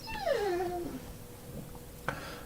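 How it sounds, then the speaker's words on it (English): A young puppy with an allergic reaction lets out a high, drawn-out whine that slides downward, then trails off into quiet room tone with a faint later yip. "Sorry about the whining pup in the background."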